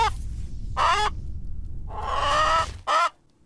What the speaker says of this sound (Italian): È un pollo! Ragazzi, è un pollo!